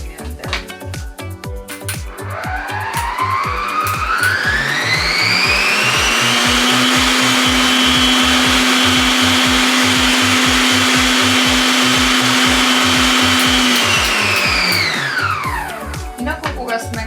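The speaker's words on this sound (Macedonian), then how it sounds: "кога сме кај овој миксер" An electric mixer whips Oreo cheesecake filling, its motor spinning up to a loud, steady high whine that holds for about ten seconds before winding down, with a low hum beneath.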